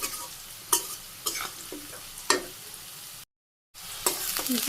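Food frying in a pan in a Bangladeshi village kitchen: a continuous crackling sizzle broken by sharp scraping stirs every second or so, close up, with a short silent gap before the frying and stirring resume.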